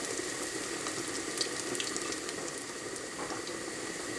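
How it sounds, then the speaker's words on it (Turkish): Mineral water pours into a cauliflower batter, giving a steady, close fizzing and bubbling hiss with no talk. "Ben maden suyu katıyorum içerisine."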